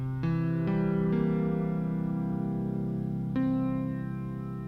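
A rich synthesized chord builds from harmonics 4 through 8 of one fundamental as tones enter one after another, then hold as a sustained, steady drone with a fresh attack near the end, alone and moderately quiet.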